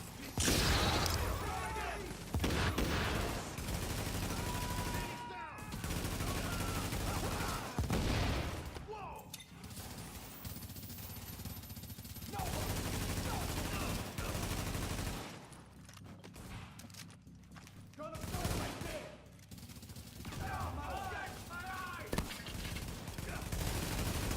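Gunfire from a G36 assault rifle in the video game The Division rattles in repeated bursts and fusillades across a long stretch, mixed with game effects and voice callouts.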